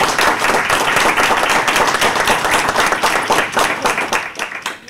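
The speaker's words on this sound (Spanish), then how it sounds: "Un aplauso." An audience at a panel discussion on Venezuelan prisoners of conscience applauds with loud, dense, sustained clapping that tapers slightly toward the end.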